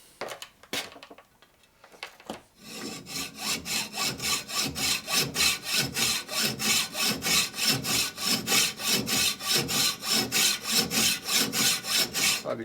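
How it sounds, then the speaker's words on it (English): A hand saw with a cheap blade cuts cheap aluminum. A few sharp knocks give way to a long, steady run of rhythmic back-and-forth rasping strokes, loud and close. "let's see if it'll cut. This is some real crappy aluminum and a real crappy blade."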